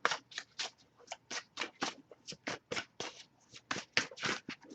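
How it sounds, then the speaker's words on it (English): Quick, rhythmic riffling of a tarot card deck, repeated snapping bursts close up and fairly quiet, with no voices. "I'll give it a few more shuffles here too."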